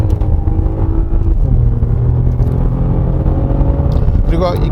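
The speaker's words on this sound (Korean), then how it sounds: "이렇게 고회전을 쓰는 동안에 앞에 엔진룸에서 이 터보차저가 좀 강하게 회전하는, 네, 그런 소리를 귀 기울여서 들으면 들을 수가 있습니다" A 2018 Maserati Levante V6 is driven hard on a winding road. The engine revs at high rpm with a steady, loud rumbling drone and a shifting tone as it climbs, and turbocharger whir sits in the engine note.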